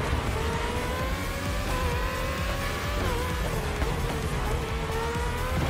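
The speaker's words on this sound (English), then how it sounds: "Listen to those engines too." Several race car engines in The Crew Motorfest drone and whine together at high revs, pitches shifting as cars accelerate and pass, with a faint tire squeal.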